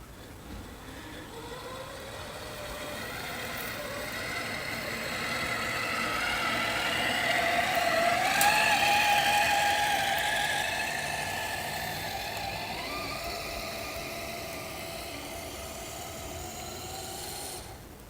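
A CXT utility vehicle test-driven around a yard with a trailer on newly redesigned suspension; a steady mid-pitched engine hum swells as it passes closest, then fades away again.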